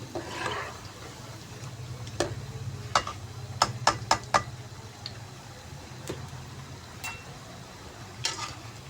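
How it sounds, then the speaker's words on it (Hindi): Moong dal pakoras fry in ghee in a pan and are pressed down, giving a low, steady sizzle broken by scattered sharp ticks and a brief cluster of taps in the middle. No one speaks. "पकोड़े जो हैं आप लोग ऊपर से प्रेस करेंगे तो ये अच्छे तरीके से अंदर से भी फ्राई हो जाएंगे"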